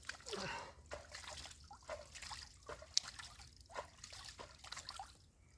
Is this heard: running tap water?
yes